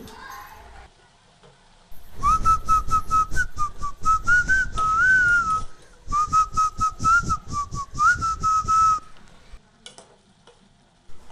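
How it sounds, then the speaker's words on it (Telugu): Someone whistles a melodic film tune in two phrases, clear and close, over faint sizzling and stirring of a broad bean curry being cooked, with short pauses between. "ఈ విజిల్ ఏ సినిమాలో ఉందో కింద కామెంట్ బాక్స్లో తెలియజేయండి"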